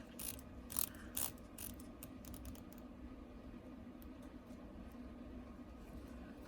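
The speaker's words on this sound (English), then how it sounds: "the bezel action on this thing doesn't feel very good either. It doesn't have a distinct clicking," A watch bezel is turned, giving a brief run of soft, closely spaced ratchet clicks in the first few seconds, faint and close-up, followed by near silence.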